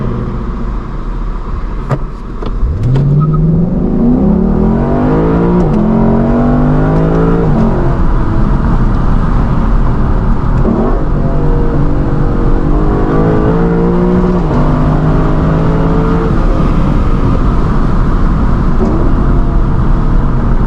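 Lexus LC 500 V8 sprinting from a standstill, its engine note climbing through several gear changes in rising, stepped sweeps, loud and close from inside the cabin, with no talking.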